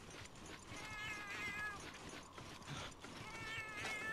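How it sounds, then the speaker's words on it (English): A cat companion in Monster Hunter Freedom Unite gives several short, quiet meows in a row over faint game ambience. "What does the cat want?"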